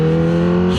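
Kawasaki Ninja H2 motorcycle engine running close and loud, a steady high-revving drone with strong harmonic tones and a slight pitch shift at the very end, heard alone without voices.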